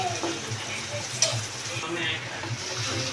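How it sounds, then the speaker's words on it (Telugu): Garam masala spices frying in hot oil in a pot for prawn biryani, a steady soft sizzle with light stirring and a single sharp clink partway through. "కొంచెం ఆయిల్లో బాగా ఫ్రై అయిపోతుంది"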